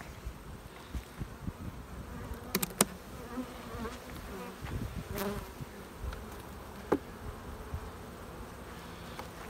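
Honey bees hum at a stacked beehive, a steady close drone of many insects with individual bees zipping past the microphone now and then, plus light outdoor handling noises.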